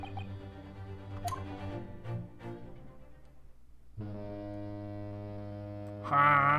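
A steamship's deep horn blares in The Great Ace Attorney video game, a loud sustained low tone entering abruptly after a quieter humming stretch, with a brighter chime-like sound at the end.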